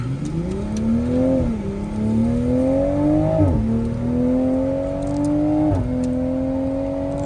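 A 2024 MK5 Toyota Supra 3.0 accelerates hard through the gears on paddle shifters. Its engine note climbs in loud, steady sweeps, with sharp quick drops at each upshift, all heard from close by.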